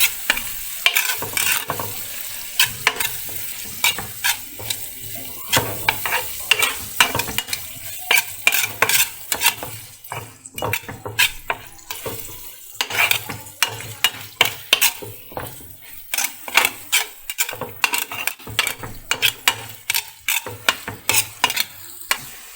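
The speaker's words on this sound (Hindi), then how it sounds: "अब हम इसको अच्छे से मिक्स करते हैं।" Chicken chilli being stirred and mixed in a pan with a spatula, with a steady sizzle under repeated scraping strokes that come in quick, regular bursts, close and fairly loud, with no talking.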